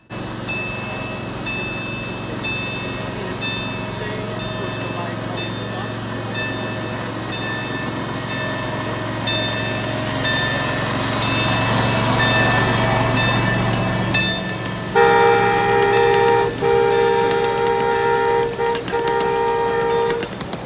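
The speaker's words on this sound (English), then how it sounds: "I headed to the micro gauge train station to see 8102 depart again" Micro gauge train 8102 departs a station at a steam museum show, giving a steady rumbling run with sustained tonal whistle or horn notes that grow louder near the end, with no talking.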